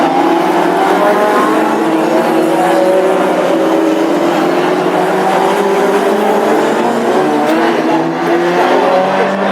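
Classic hot rod race cars roaring in a pack on a shale oval at Birmingham, engines droning loud and continuous with rising revs as they come round to the green flag, no talk.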